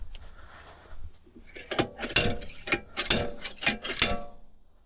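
Ratcheting clicks as a nut is run down onto a Toyota Corolla wheel bearing, a close series of sharp, irregular bursts over about three seconds following a quieter stretch.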